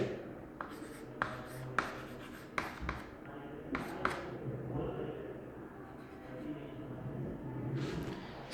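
Chalk or marker tapping and scratching on a board during a maths lesson, a series of short close strokes followed by quieter continuous scribbling, with faint background voice.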